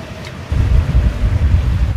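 Wind of about 20 knots blows outside a boat hatch, a steady low rushing roar that swells after a brief quieter moment and stays up close and buffeting.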